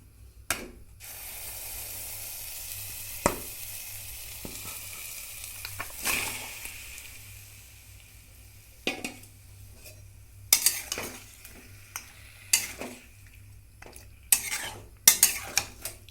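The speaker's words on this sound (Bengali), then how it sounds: "এবার এই চিকেনটা এর ভিতরে দিয়ে দিব।" Marinated chicken hitting a hot kadai on a gas stove, a steady sizzle with scattered sharp clinks and scrapes of a utensil against the pan, busier toward the end.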